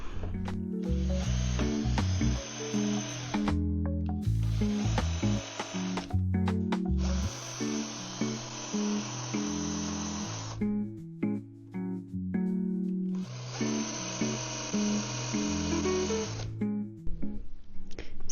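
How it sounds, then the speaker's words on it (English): A power drill with a bit bores into pallet wood for a potting bench, its motor whining in several long, loud stretches separated by short pauses. "that's what you then end up with when you drill with that other bit"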